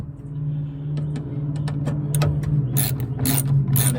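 A ratchet clicks in quick bursts while tightening speaker screws inside a 3rd-gen Toyota Tacoma Access Cab door, sharp metallic pawl ticks over a low steady hum, growing louder toward the end.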